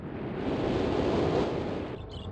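Ambient wind from the game Myst, a broad, steady rushing whoosh that holds evenly and then eases off near the end, heard alone with no talk.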